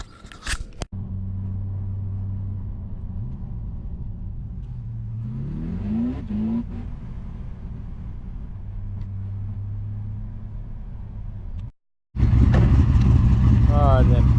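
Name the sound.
LS1 V8 car engine idling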